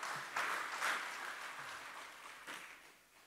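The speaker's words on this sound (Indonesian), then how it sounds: "Tepuk tangan untuk beliau kembali." Applause from a seated audience at a formal Indonesian state ceremony, a moderate steady patter of many hands with a couple of brief swells, heard at some distance and fading toward the end.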